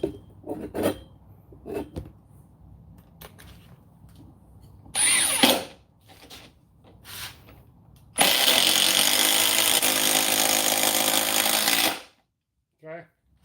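A DeWalt cordless power drill whirs loudly and steadily for about four seconds near the end, preceded by a few short clicks, handling noises and brief quieter bursts.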